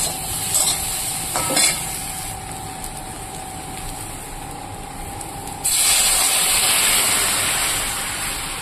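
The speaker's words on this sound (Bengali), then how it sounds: "দিয়ে দিলাম আমি পরিমাণ মতো জল।" Masala cooks in a pan with a soft sizzle and a few stirring clatters, then water is poured in and a louder, steady rushing hiss takes over for the last few seconds.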